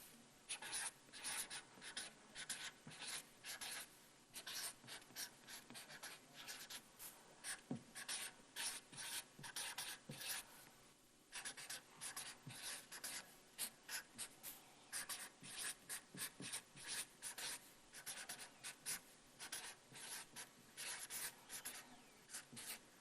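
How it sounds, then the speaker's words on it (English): Pencil writing a sentence on paper: close, faint scratchy strokes in quick irregular bursts with short pauses, continuing for over twenty seconds. "I'm going to write my sentence in the box while you write yours in the box."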